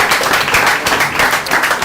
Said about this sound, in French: est-ce qu'on peut mieux l'applaudir?